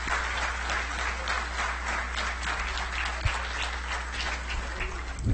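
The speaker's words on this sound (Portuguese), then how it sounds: "Receba os nossos aplausos." A conference audience at a civic transparency event in Brazil applauds in a steady, even wash of many hands clapping that lasts throughout, with no pause and no talking on top.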